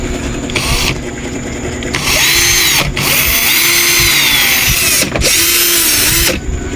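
A cordless power drill running on a repaired battery whirs loudly in long bursts. Each burst is separated by a brief stop, and the drill spins back up three times.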